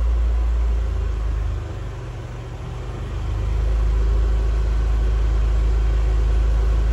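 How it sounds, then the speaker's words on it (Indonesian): An engine holds steady throttle on a dynamometer, a loud continuous droning rumble that briefly eases and then returns to its even pitch, with no voices. "Coba untuk digas rata juga."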